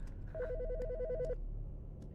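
An old-style telephone bell in the Autopsy Simulator game rings one rapid warbling burst of about a second, fairly close and clear against a quiet room tone, then stops.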